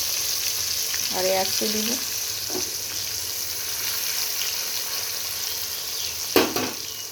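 Bitter gourd chips fry in hot oil over a high gas flame, a steady broad sizzle filling the background while a voice speaks briefly near the start, with a short clatter of utensils late on.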